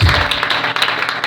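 Church congregation applauding during a worship service, a dense wash of clapping with some voices mixed in, close and steady for a brief burst.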